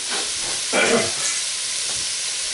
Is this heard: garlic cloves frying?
yes